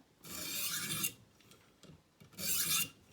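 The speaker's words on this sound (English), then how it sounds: "we flip it over, and then listen to that burr get removed" A Green River knife is pushed along a sharpening stone to remove the burr, two long, close gritty rasps separated by a few lighter scrapes.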